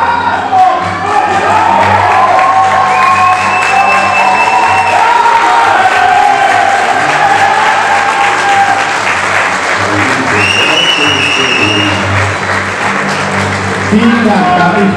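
Audience at the NABBA Austrian bodybuilding championships applauding and cheering, loud sustained clapping with whoops and shouts, a voice and music-like tones running over it throughout.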